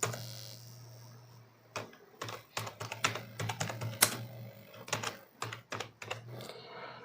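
Typing on a computer keyboard while filling in an online MSME Udyam registration form: quick, close key clicks in irregular bursts after a quiet start, with a low electrical hum underneath.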